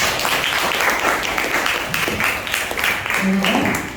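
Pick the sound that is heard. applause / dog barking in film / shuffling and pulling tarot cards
applause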